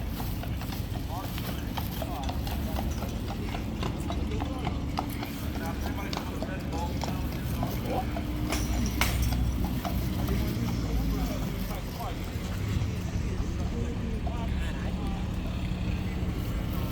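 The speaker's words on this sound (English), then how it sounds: "Can take a horse carriage ride." Hooves of a horse pulling a carriage clip-clop steadily along a street, under constant traffic noise and the chatter of people talking nearby.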